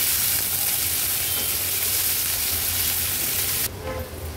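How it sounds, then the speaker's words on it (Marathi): Finely chopped onion frying in a pan over a low-to-medium gas flame gives a loud, steady, close hiss of sizzling that drops slightly in level near the end, with no voices. "गॅसची फ्लेम लो टू मीडियम वर ठेवून कांदा आपल्याला शिजवून घ्यायचा आहे"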